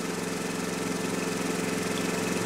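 A Bedini SSG monopole motor spins steadily at about 1322 RPM, giving a constant, dense mechanical hum and whir with a fast, even pulsing that stays loud and unchanged throughout.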